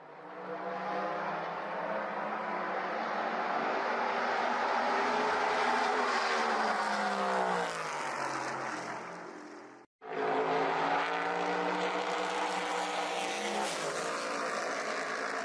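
A NASCAR Next-Gen race car laps during a test at Phoenix, its engine roaring loud and close with rising and falling pitch through gear changes, cutting out sharply for a moment before the roar resumes, with no talk.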